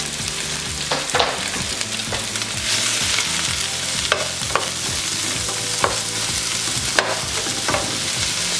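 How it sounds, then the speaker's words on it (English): Shrimp sizzle steadily in a hot pan, a dense close frying crackle with occasional sharp pops and the scrape of stirring, no talking. "You hear that sizzle?"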